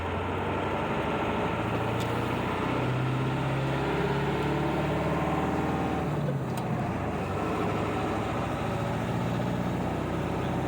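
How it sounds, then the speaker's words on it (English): A tractor drives in first gear with a steady, loud engine rumble that runs without a break for the whole stretch, plus some rattling. No one speaks. "I was going around through there with the tractor"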